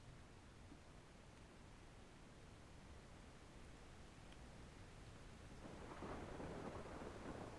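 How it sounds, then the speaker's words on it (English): Thunderstorm in the game Ark: Pokemon Survival Evolved: steady rain hiss with a low rumbling of thunder that builds louder toward the end. "These storms are loud."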